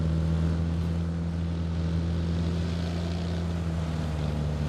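An approaching vehicle in the PUBG video game, a steady engine drone with a low hum that holds evenly throughout, moderately loud under wind, with no talk.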